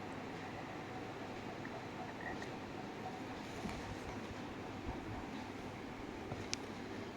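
Inside a Shatabdi Express train leaving Howrah, a steady low rumble and hiss of the moving carriage runs continuously, faint and even, with occasional small clicks.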